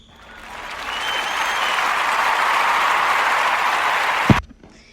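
Sustained round of applause from an audience, rising quickly and holding steady as a dense, even clatter of many hands, then cutting off abruptly near the end.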